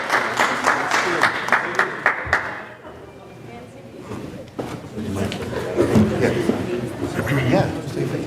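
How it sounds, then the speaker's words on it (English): At a city council meeting, an audience applauds Steve with bursts of sharp clapping that fade, then rise again amid murmuring voices, chatter and some laughter. "Let's give Steve a round of applause."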